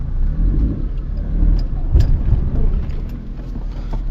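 A Maruti Alto's small engine idles and hums steadily while reversing on a mountain road for a U-turn, a continuous low drone with slight swells and no talk.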